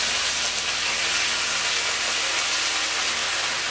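Ginger garlic paste sizzles in hot oil with bay leaf, dried chili and cumin for a Bengali mochar kofta curry, making a steady, bright, hissing crackle throughout with no pauses or voices.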